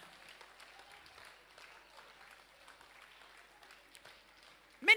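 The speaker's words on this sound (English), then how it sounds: "Clap your hands for victory." Church congregation at a deliverance prayer and fasting service clapping hands, a soft, distant, continuous patter of many hands that ends in a louder burst of sound.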